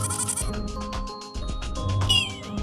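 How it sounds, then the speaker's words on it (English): A goat bleats in a quick series of wavering, nasal cries, close and loud, filling nearly three seconds with a rapid pulsing rhythm. "G is for goat."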